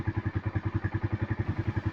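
A warmed-up motorcycle engine idles close by, its steady rapid thumping pulse holding an even rhythm throughout with no revving and no voices.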